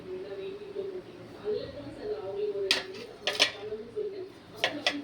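Mustard seeds go into a hot pan during Tamil home cooking, giving a few short crackling pops and metallic clinks over a low kitchen hum while someone talks.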